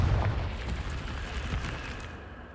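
The Confringo fire spell in the game Hogwarts Legacy, a single booming blast that rolls off into a fading rumble.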